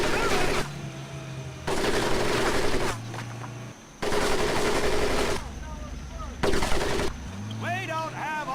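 Gunfire in the Medal of Honor Pacific Assault video game, dense machine-gun bursts alternating with brief lulls, loud and continuous, with shouted voices and whistling tones in the gaps.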